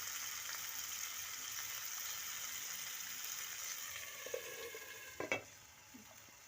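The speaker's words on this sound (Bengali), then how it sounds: "আলু আর ডিমটা ভালো করে ভাজা হোক, ততক্ষণ আমরা অন্য কোনো কাজ সেরে ফেলি" Potatoes and eggs fry in oil in a covered pan, giving a steady, even sizzle throughout, with a few soft knocks and clatters near the end.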